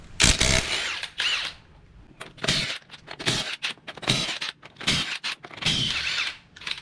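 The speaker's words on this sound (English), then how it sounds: "21mm socket. We're going to take your lug nuts off." A power tool or ratchet spins lug nuts off a 120 series Prado front wheel with a 21mm socket, in repeated short loud whirring bursts separated by brief pauses.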